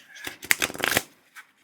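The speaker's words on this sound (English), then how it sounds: "I could riffle shuffle as long as my hands could hold up" A deck of tarot cards riffle shuffled by hand, a quick fluttering burst of card edges snapping together up close, followed by a brief softer rustle.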